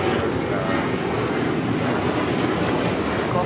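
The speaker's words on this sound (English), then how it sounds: "This is American Airlines 613 taking off to Chicago on the 737-800." American Airlines Boeing 737-800 jet taking off at Los Angeles LAX, a broad steady roar of engine noise close and loud throughout the short stretch, with no pauses.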